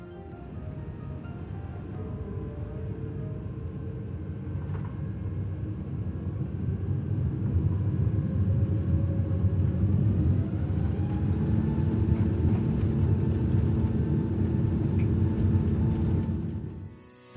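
Steady low cabin rumble inside a Singapore Airlines A380 taxiing toward the runway, a constant engine drone and hum that swells slightly midway, with no talking.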